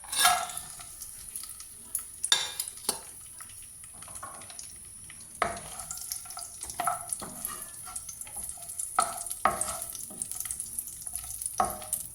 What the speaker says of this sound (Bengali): এটা গরম হওয়ার পর এতে আগে কাজু আর কিশমিশগুলো ভেজে তুলে নেবো